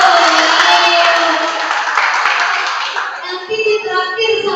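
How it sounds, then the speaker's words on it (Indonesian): Applause for class 7C at a school quiz contest: a burst of classroom clapping mixed with children's voices that thins out into scattered claps and chatter. "Tepuk tangan untuk 7C"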